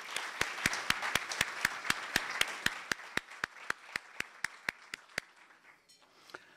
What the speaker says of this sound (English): So I'd like everybody to give Jeff an applause for joining our board.